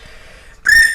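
A person imitates a police or referee whistle with the mouth, producing one short, shrill, bright whistle burst after a brief quiet breath, loud and close.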